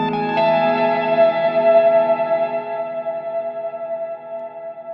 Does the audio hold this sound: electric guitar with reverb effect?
yes